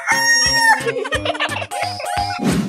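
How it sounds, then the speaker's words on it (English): Cartoon chicken clucking in a video game, a run of short rhythmic bird calls over a steady bright game tone, ending in a louder burst, loud and close. "Chicken."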